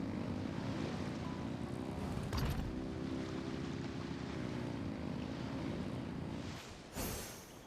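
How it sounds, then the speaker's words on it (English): Engines roar steadily in Genshin Impact, a dense, sustained drone that holds loud for several seconds, dips briefly, then swells again near the end. "Rev the engines!"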